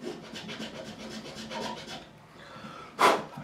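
An oversized file rasps back and forth in a guitar nut slot in quick, even strokes, then pauses before one louder, harsher scrape.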